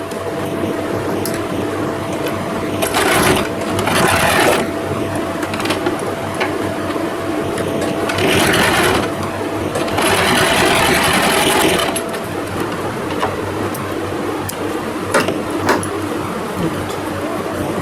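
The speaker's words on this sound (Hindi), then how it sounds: "सीधा कर कर भी एक बार सिलाई लगाएंगे ताकि ये मेरी प्लेट सारी बैठ जाए।" A sewing machine stitches down the pleats of a lehenga in long runs, with a steady mechanical whir that swells in louder bursts and then eases, heard close with no talking.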